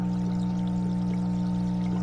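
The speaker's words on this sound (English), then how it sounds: "we don't want to hear that water rushing, I can turn it down like that." An aquarium filter runs at full flow, making a steady, close rushing water sound over a constant low mechanical hum, with no talking.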